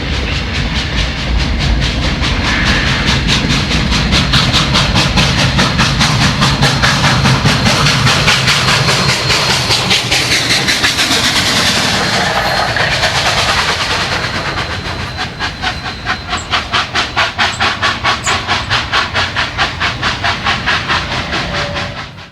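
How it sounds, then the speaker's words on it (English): Union Pacific 844 steam locomotive pushing a freight train at about 15 to 20 mph, with loud steady rumble, hiss and rhythmic clickety-clack of rail cars, a rapid chuffing pulse emerging near the end. "this moment of 844 pushing the freight train was captured by Dandy Dancer Productions."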